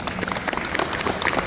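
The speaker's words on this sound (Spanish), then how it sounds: "Quiero pedirle un aplauso fuerte" An audience at a science festival event in Paraguay gives a dense, steady burst of applause, many hands clapping together in a continuous patter that fills the hall.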